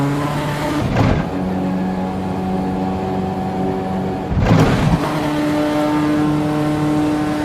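Turbocharged car engine at steady high revs while racing in Assetto Corsa Evo, a sustained drone with a whine layered on top, broken by two brief shifts or bumps.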